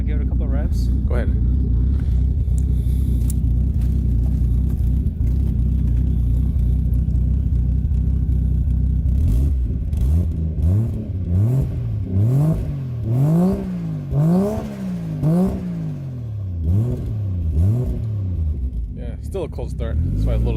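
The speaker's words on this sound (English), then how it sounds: "Want to give it a couple of revs?" A 1JZ-swapped Nissan 240SX sits at a loud, close cold-start idle, then is revved in several quick blips that climb and fall before settling back to idle, with people talking nearby.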